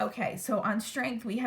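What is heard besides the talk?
None of the usual background noises is heard.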